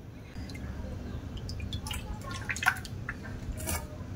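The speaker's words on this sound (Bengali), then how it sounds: "এবার আমি এই মাছগুলো ভালো করে পরিষ্কার করে আবার জল দিয়ে ধুয়ে নেব" Small lote fish being rinsed with water in a kitchen, soft drips, splashes and wet squishing sounds over a low background hum, fairly close.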